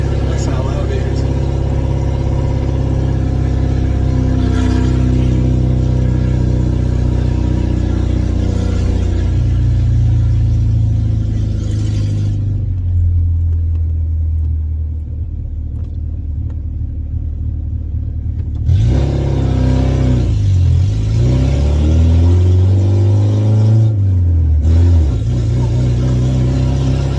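A Ford Cortina P100 engine revs through a loud exhaust, with a heavy droning rumble that rises and falls, then surges again after a quieter stretch.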